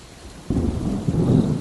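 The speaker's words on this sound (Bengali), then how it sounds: "বাইরে বৃষ্টি হচ্ছে" Rain hisses outside at first, then a deep, loud rumble of thunder breaks in about half a second later and rolls on over the continuing downpour.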